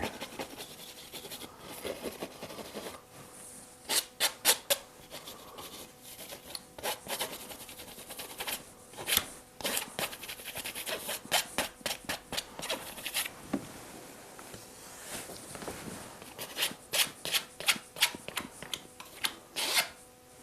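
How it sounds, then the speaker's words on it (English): A palette knife scraping oil paint across a canvas during a landscape painting, close and quiet: repeated dry rasping strokes in irregular bursts, some quick back-and-forth scratches, with no talking. "Scrape that off at the bottom."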